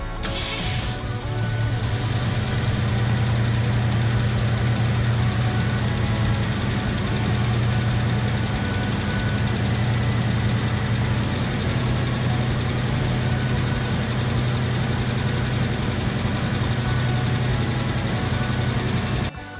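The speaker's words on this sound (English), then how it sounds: "we're going to go ahead and fire up the car" A car with an electric choke idles steadily after starting, its low engine rumble loud and close, holding an even drone throughout with no voices.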